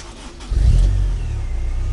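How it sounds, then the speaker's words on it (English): A car engine fitted with DM-200 gauges turns over and catches, its low rumble rising abruptly to a steady idle partway through the short moment, close and fairly loud with no talking. "Let me fire up the vehicle for you real quick."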